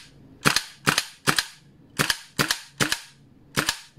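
A WE AK-74 airsoft gas blowback rifle with a real wood stock fires seven sharp, loud cracks at an uneven rhythm of roughly half-second gaps while the gas runs out, each shot snappy with a short mechanical tail.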